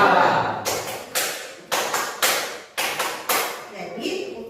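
Rhythmic hand clapping by a class of pupils playing a counting clap game, with about six sharp, evenly spaced groups of claps standing out over a background of voices.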